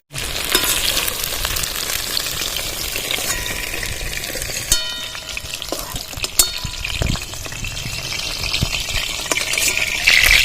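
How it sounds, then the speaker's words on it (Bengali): Pointed gourd (potol) pieces frying in hot oil for potoler kalia, a loud, steady sizzle close up. The stirring adds scraping and a few sharp clicks and splashes, with no talking. "পটলগুলো খুব সুন্দর লাল লাল করে ভেজে নিয়েছি"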